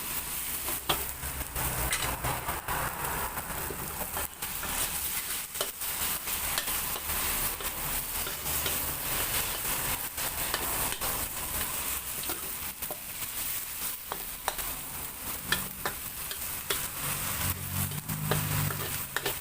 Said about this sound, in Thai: ก็เริ่มคั่วกันแล้วนะคะ เร่งไฟให้แรงเลยค่